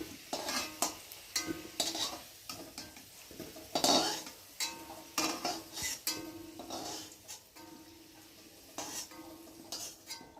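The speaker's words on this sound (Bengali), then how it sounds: "আমি একে একে আলুগুলোকে তুলে নেব" Oil sizzles in a pan while a utensil repeatedly scrapes and clinks against it, lifting fried potato pieces out one after another in uneven bursts.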